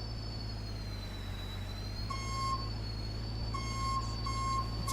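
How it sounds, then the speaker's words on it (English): Reversing beeps from a truck in Farming Simulator 19, two bursts of evenly spaced electronic tones sounding over a steady low engine hum and faint background noise. "It's a fantastic reverse sound."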